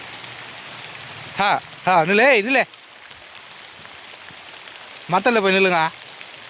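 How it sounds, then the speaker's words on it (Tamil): Heavy rain pours in a steady, constant hiss on an outdoor surface, with a person's voice calling out in two short bursts over it. "சரியான மழை."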